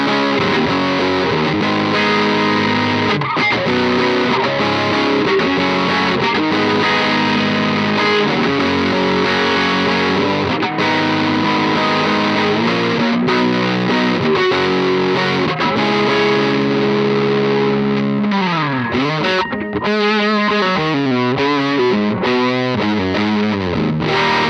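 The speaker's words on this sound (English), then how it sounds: "So I'm bringing it on to the second position, which was the mid-push position on the back pickup. It's a brilliant distortion sound." Electric guitar on the back pickup through a Pigtronix Disnortion pedal in its mid-push distortion setting plays sustained, thick distorted chords and bends, loud and continuous, ending with warbling slides and no speech.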